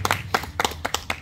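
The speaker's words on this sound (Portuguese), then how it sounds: "uma salva de palmas pra Joelma" A small group claps for Joelma during a surprise new-house presentation, giving a quick run of about seven close, distinct hand claps in a loose rhythm over a low background hum.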